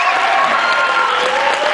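Short burst of continuous clapping from a school concert audience, cheering the chorus of the Leominster High School and Monty Tech band spring concert, dense and even throughout.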